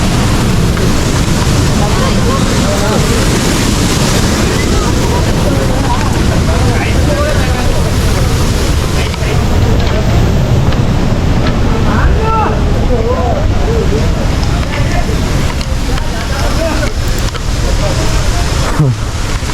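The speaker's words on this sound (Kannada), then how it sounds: "ನಾವಿವಾಗ ಒಂದು ಜಲಪಾತದ ಹತ್ರ ಬಂದಿದ್ದೀವಿ ಏನು ಹರಿತಾ ಇದೆ ನೀರು" Loud, continuous roar of rushing water at Honnammanahalla waterfall, swollen by heavy rain, dense and unbroken throughout, with faint voices underneath.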